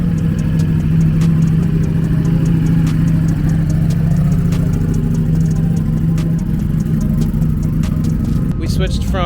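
A 2023 Ducati V4 SP2 Streetfighter motorcycle running on a race track, its engine a loud, steady droning hum held close throughout, with a brief rising burst of revs near the end.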